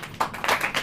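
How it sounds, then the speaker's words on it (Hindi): A church congregation claps in a few quick, rhythmic bursts, loud and close, over a very short moment. "ताली बजाओ,"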